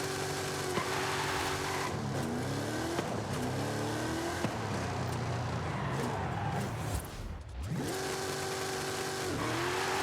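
In Forza Horizon 5, a car engine revs hard and repeatedly while its tires are warmed, the pitch climbing and dropping in loud, close sweeps. The roar is nearly continuous, with a brief dip before it surges again.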